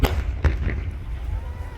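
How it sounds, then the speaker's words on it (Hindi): A gas cylinder bursts in a burning truck at a gas agency in Bareilly, giving a sharp close blast, a second crack moments later and a low fire rumble underneath. "ट्रक में आग लगने के बाद में जोरदार आवाज आती है"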